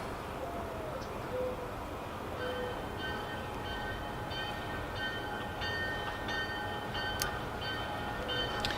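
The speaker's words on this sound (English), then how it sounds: "Sounds like a train's coming by." A train rolls past at a distance in a steady broadband rumble, with faint sustained horn-like tones drifting over it. No voices are heard.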